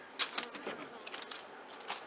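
Honey bees buzz at an opened hive during an inspection without smoke, a close, faint hum broken by brief louder passes of single bees near the listener.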